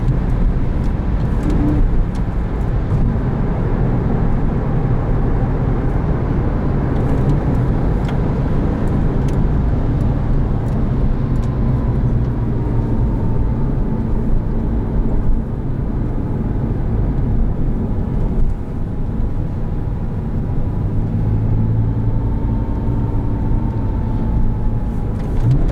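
A 2007 Porsche 911 Carrera S with a manual gearbox drives along, its engine a loud, steady drone mixed with road and wind noise from inside the cabin, with faint rises in pitch as it revs through gear changes.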